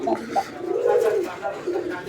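Fancy brick-red Rajgolla pigeons coo in a loft, soft rolling calls rising and falling in a steady series, fairly close with some background noise.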